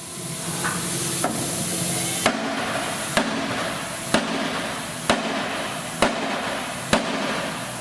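A block of wood strikes a bent car bumper, likely on a Buick Electra, during frame straightening: six sharp, evenly spaced knocks about a second apart, loud and close over a steady broad hiss.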